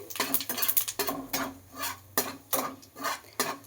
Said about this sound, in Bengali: এবার একটুখানি এটা নেড়ে নিচ্ছি